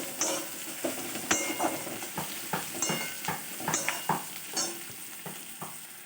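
Crushed garlic and chili hit hot oil with partly browned onions in a pan, giving a steady close sizzle broken by repeated sharp clinks and scrapes of a stirring spoon at an even rhythm.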